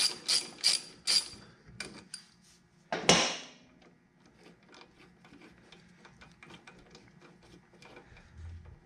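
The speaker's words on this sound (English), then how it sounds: "Get your ratchet with an extender. Go in there, pop that boy off." A ratchet with an extender works a 10mm bolt on a Harley battery, giving a quick burst of loud clicking bursts and a sharp clatter, then fainter scattered mechanical ticks and handling noises close by.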